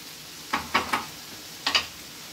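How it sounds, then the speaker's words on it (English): Gluten-free pasta being stirred in a pan, with a few soft scraping strokes over a faint steady sizzle, two short bursts of stirring close by. "we're just continuing to mix him in the pan"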